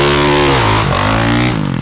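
A dirt bike engine revs hard at high RPM, a loud steady mechanical roar whose pitch dips briefly near the middle and then climbs again, close by with no voices.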